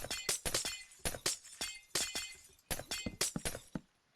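Red stained glass blocks break in Minecraft, a quick run of sharp glass shatters, each a bright crisp crash, coming one after another in an uneven rhythm.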